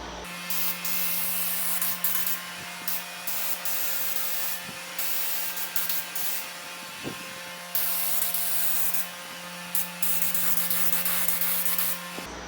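A spray gun painting the underside of a 1950 Chevy truck hood, loud hissing bursts of spray in repeated passes separated by brief pauses, close and alone.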